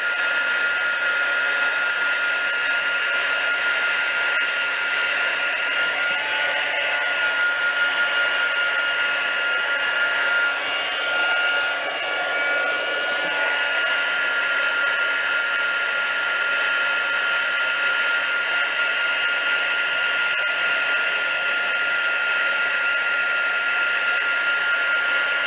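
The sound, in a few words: heat gun heating embossing on a card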